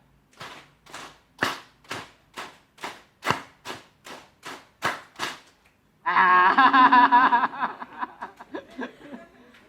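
A group claps in short bursts of three: a steady run of sharp separate claps, then a busier stretch of overlapping claps and murmuring, with some voices mixed in.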